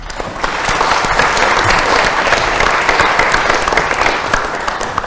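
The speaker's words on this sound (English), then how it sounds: "you all applauded me" Loud, sustained applause from a panel debate audience fills the room steadily for about five seconds, dense clapping with no voices over it.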